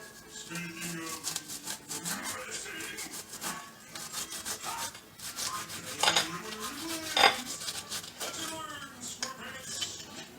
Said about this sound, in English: Now we just turn on the side and chop.